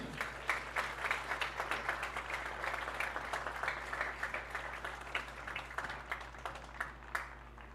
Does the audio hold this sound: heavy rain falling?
no